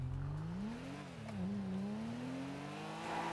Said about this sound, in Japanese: さあ、86、そして BRZ ということで、エンジンサウンドはこれ何のやつだろ